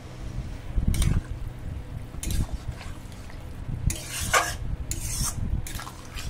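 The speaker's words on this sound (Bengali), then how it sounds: "জল দিয়ে খুব ভালো করে নেড়ে দেবো।" A spoon scrapes and swishes through okra and water in a pan for a Bengali bhindi curry with prawns, coming in short rubbing bursts separated by quieter stretches.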